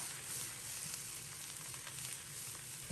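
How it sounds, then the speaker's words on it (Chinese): Napa cabbage stir-fried in a wok over high heat gives a dense, continuous hiss that stays loud and even throughout, with faint scraping underneath and no voices. "放入大白菜，开大火在锅中煸炒"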